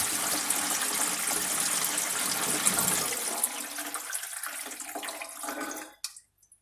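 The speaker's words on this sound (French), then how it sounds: "Et là, l'évier coule parfaitement." Water drains steadily through a kitchen sink and its newly refitted siphon with a loud rushing gurgle that tapers off and stops after about six seconds.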